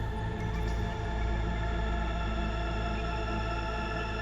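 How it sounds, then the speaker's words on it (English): A shimmer reverb preset built from Bitwig devices sustains a dense, steady wash of layered, pitched tones with a shimmering upper haze, droning evenly and fairly quietly with no talking. "what you're hearing is kind of what I associate with this shimmer"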